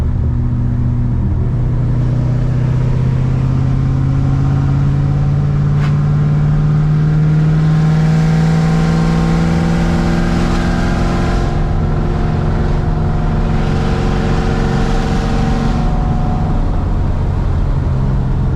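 A tuned car engine on boost drones loudly and continuously, its pitch sweeping upward in a long rising pull before settling into a sustained roar with slight fluctuations, heard up close with no talk over it.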